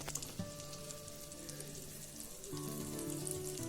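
Amul herbs and spice butter melts in a pan with a faint, soft sizzle. Steady sustained tones sit above the quiet crackle, which grows slightly louder near the end.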